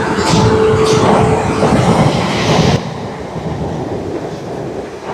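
A train rumbles loudly and continuously through Basingstoke railway station, a deep broad roar that drops to a lower, steadier drone partway through.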